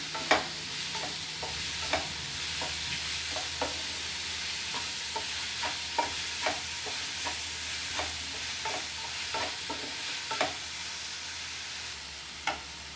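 Onions sizzling steadily in a hot pan with salt while cooking chana masala, with a spoon or spatula scraping and clicking through them at an irregular stirring rhythm, close by. No talking.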